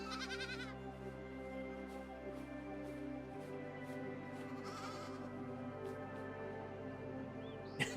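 Sheep bleat faintly in the AER: Memories of Old video game, heard over a steady, droning game soundtrack with a couple of brief high calls and no talking.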